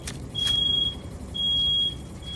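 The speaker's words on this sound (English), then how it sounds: "Oh no, the smoke alarm." A smoke alarm goes off indoors, giving two long, steady high-pitched beeps with a short gap between them over a faint background hum.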